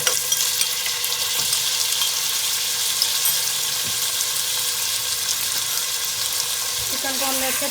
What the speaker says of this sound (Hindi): यहाँ पे हम चिकन को फ्राई कर रहे हैं, उसका कलर चेंज होने तक।